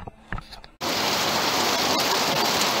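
Heavy rain pours onto a garden tunnel in northern France, starting abruptly after a quiet moment and then hissing loud and steady as a dense, close wash of drops.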